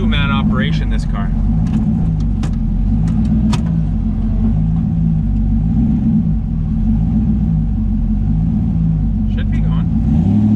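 Turbocharged LS-swapped Sonicstang idling with a steady, loud low rumble heard from inside the car, continuous throughout, with people talking briefly over it.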